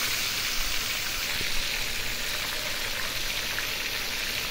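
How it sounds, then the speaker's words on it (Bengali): Spice-marinated chicken pieces frying in hot oil, giving a loud, steady, dense sizzle with faint crackles that never let up. "আমি এখানে চিকেন ফ্রাই করবো, এখানে চিকেনটা দিয়ে দিলাম তেলের ভিতরে"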